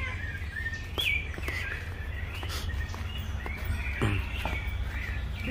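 Small birds chirp faintly in a forest near a river, scattered short calls over a steady low rumble of outdoor background noise.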